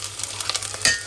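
Tomato paste is scraped into a hot frying pan, giving short, close spoon scrapes and taps over a light sizzle.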